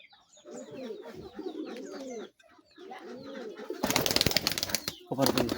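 Pigeons kept for sale coo in repeated low, rolling calls through most of the stretch, with a brief pause, followed by a burst of loud fluttering and wing-flapping near the end.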